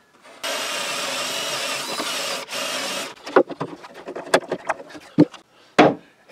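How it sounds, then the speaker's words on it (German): A power drill bores a hole into wood, running loud and steady for about two and a half seconds with a brief dip, then stopping, followed by sharp knocks and clicks of handling the tool and workpiece. "Und da bohren wir jetzt mal ein Loch rein."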